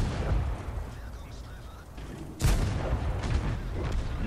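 A heavy tank cannon blast in the game World of Tanks, from an E25 tank destroyer, booms out suddenly midway, over a constant low rumble of engine and battle noise.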